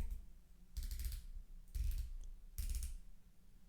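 Ceramic-insert 60-click dive watch bezel being rotated, giving three short bursts of stiff ratcheting clicks close to the microphone, separated by brief pauses.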